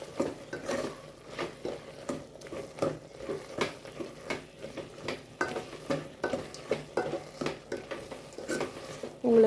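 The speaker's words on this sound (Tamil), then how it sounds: "குழம்பு மிளகாய் தூளும் கறி மசாலும் போட்டுக்கலாம். எண்ணெயிலே போட்டு" Chili powder and curry masala sauté in hot oil for a tomato curry, with a spoon scraping the pan in a quick, steady rhythm over a soft sizzle and occasional clinks of metal, close by.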